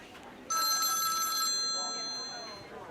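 A telephone bell rings once, a loud electronic trill lasting about a second, then fades into a quiet room tone.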